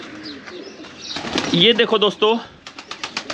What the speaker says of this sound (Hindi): यहाँ पे काफी कबूतर हैं